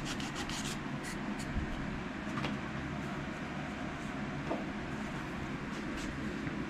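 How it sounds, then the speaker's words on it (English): Sanding a WWII combat knife during a restoration, a soft continuous rubbing scrape that runs steadily and quietly, with a few faint clicks and bumps over a low background hum. "Now, sanding my lines off."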